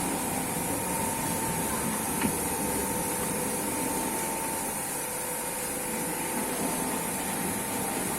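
An automatic carpet washing machine runs with a steady mechanical hum and whir, an even and continuous drone with one faint click partway through, fairly close, with no talk over it.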